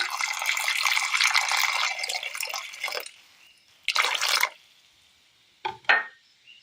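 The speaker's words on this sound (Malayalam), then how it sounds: "അല്പം വെള്ളം ഒഴിച്ച് കൊടുക്കാം." Water pours steadily into a cooking pot of vegetables and green chillies for about three seconds, then two shorter splashing pours follow with quiet gaps between them. No one speaks.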